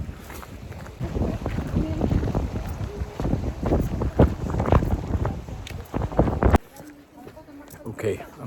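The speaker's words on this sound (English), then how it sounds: "so it's getting very windy." Strong wind buffets a microphone outdoors on a hike beside overgrown terrain, a loud rumbling roar with gusts throughout that eases near the end, and a voice speaks faintly beneath it.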